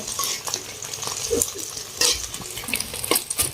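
Egg fries in a pan for street-style egg noodles, a moderate sizzle punctuated by repeated scrapes and taps of a spatula breaking and stirring it.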